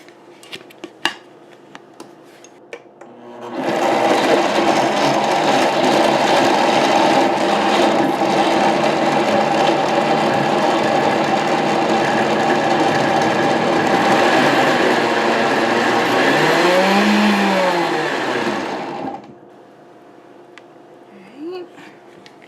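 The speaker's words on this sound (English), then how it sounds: "And now we're gonna blend." Countertop blender whirring steadily for about fifteen seconds as it purees jalapeños, cilantro and garlic cloves into a sauce, starting abruptly, then a rising pitch sweep near the end before it cuts off into quiet kitchen sounds.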